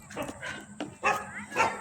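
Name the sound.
dogs barking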